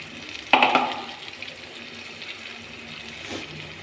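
Egg curry masala hits hot oil with a sudden loud sizzling burst that fades into a softer, steady hiss of deep frying.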